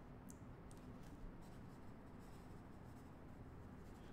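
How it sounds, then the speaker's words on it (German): Chalk scratches across a board during a physics lecture on the vibrating string, a steady, faint writing sound under a low hum of room noise with no one speaking. "Ich schreibe sie nochmal hin."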